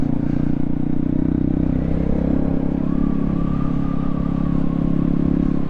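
A Honda Grom motorcycle engine drones steadily while being ridden, a close, constant buzzing hum with slight rises in revs and some rattle, no talking.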